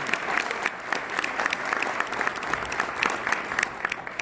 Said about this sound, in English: Please give the Inquirer a round of applause for convening us.